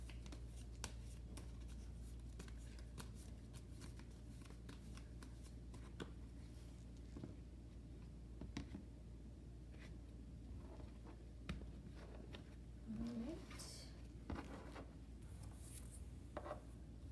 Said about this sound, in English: I'm just gonna quick shuffle and mix these cards up